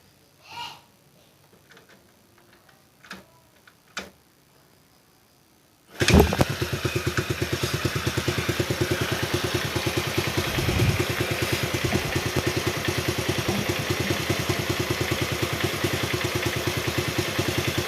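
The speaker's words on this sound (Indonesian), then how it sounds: "kita selah dulu motornya." A Honda C70 motorcycle with a 12 V full-wave magneto setup running without a battery, kick-started after a few quiet clicks and knocks, then catching at once and settling into a loud, steady, close-up idle putter that runs to the end.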